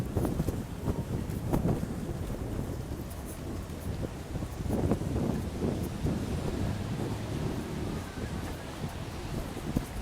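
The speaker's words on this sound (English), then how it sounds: "The wind is picking up considerably." Strong wind buffets an outdoor microphone on a city sidewalk, a steady loud low roar with gusts swelling and fading throughout, with no voices.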